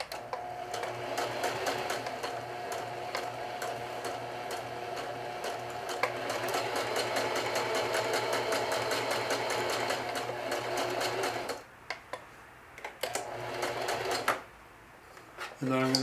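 Zigzag stitching on cloth by a sewing machine, a fast steady whirring patter that runs for about eleven seconds, then stops and starts in short bursts, with a voice talking over it.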